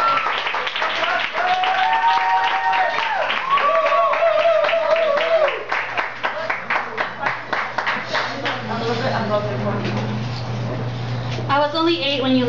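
An audience at a youth poetry slam applauds steadily, the clapping thinning toward the end while a voice speaks over it.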